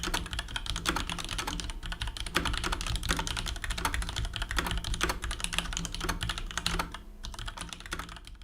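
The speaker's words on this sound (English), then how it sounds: "Now let's go for a typing test." Steady, dense clacking of keys typed on a Leopold FC900R PD mechanical keyboard, a close continuous run of quick strokes with no talking.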